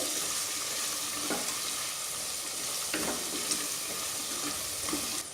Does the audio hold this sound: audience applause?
no